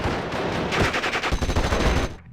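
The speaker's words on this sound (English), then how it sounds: "German grenadiers are firing at us." German grenadiers rattle off rapid machine-gun bursts in the World War II strategy game Steel Division Normandy 44, a dense loud run of shots lasting about two seconds before cutting off.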